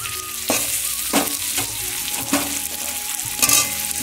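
Pumpkin and potato frying in a pan, with a loud, close sizzle and repeated bursts of stirring and scraping.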